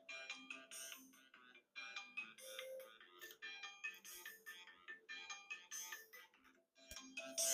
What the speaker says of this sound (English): hang on, somebody's calling me.